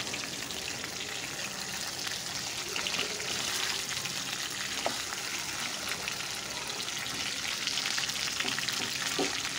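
A cut fish head fries in hot oil for an Assamese fish curry, giving a steady, moderately quiet crackling sizzle with small pops throughout.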